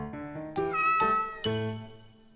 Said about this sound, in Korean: 고양이는 냐옹 소리를 냈습니다